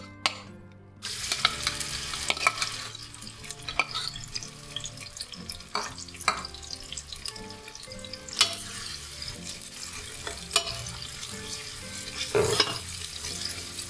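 Sliced onion sautéing in a hot pan for a Malabar king fish biryani: a steady sizzle runs throughout, with repeated scrapes and clinks of a spoon stirring against the pan. No one speaks.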